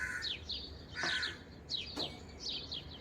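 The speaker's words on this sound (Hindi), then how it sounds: "आज सुबह सुबह पक्षियों की आवाज़ सुनाई पड़ रही है।" Several birds call in the early morning, with repeated short chirps and sharp downward-sweeping notes, a couple of louder harsh caws cutting in, all moderately near over a quiet outdoor background.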